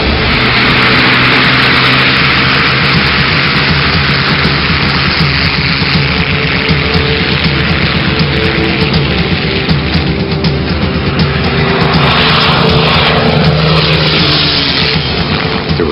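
A P-51 Mustang fighter's piston engine roars at full throttle for takeoff, a loud, steady, rumbling drone sustained throughout with propeller buzz and no voices.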